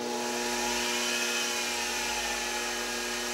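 A DC spindle motor on a CNC machine runs steadily at its 3000 RPM maximum, giving a loud, continuous whine with strong steady tones and broadband hiss throughout.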